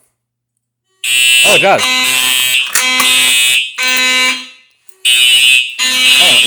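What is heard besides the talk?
Simplex 4005 fire alarm sounding during system test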